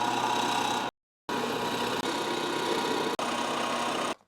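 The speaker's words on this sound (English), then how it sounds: "take this to the drill press. So this is a 1/2 drill bit" A drill press spins a 1/2 drill bit through aluminum in a steady whirring hum. It stops abruptly once, then starts again with brief breaks, and no one speaks.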